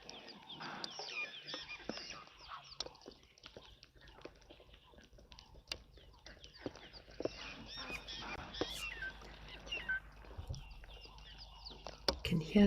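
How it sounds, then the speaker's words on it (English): Scattered bird calls and monkey alarm cries sound from a distance at a waterhole, fairly faint, over a low outdoor rumble with occasional voices. "You can hear the birds alarming, the monkeys alarming, impala still alarming."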